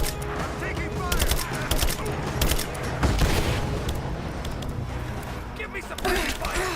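Rapid bursts of gunfire and explosions in the video game Rise of the Tomb Raider, dense and continuous throughout, with a voice speaking over the shooting.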